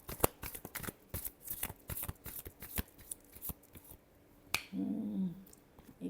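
A deck of tarot cards shuffled by hand close up, with a rapid run of crisp card snaps and flicks, then a pause and a brief softer swishing slide near the end.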